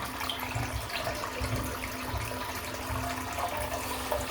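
A tap runs steadily into a bathroom sink as it fills, a constant close rushing and splashing of water at moderate loudness with no voices.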